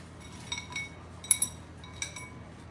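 Broccoli florets and other vegetables tossed together in a bowl, with a few light clinks and soft knocks of a utensil against the bowl, quiet and sparse.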